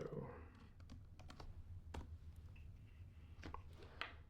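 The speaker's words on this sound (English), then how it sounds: "I gotta type faster" Quiet, scattered key clicks from typing on a computer keyboard, irregular and fairly close, over a low steady background hum.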